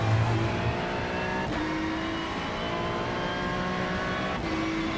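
A Ferrari 296 GT3 in the iRacing game at Sebring, engine note dropping through a long braking zone with a couple of quick downshift blips, a steady loud mechanical drone heard alone.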